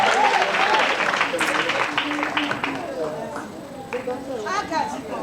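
A church congregation claps and cheers in applause to acclaim the Lord, a loud, dense and sustained burst of many hands with voices mixed in that tapers slightly toward the end.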